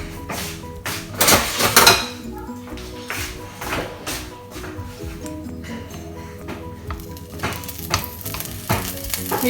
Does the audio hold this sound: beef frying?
yes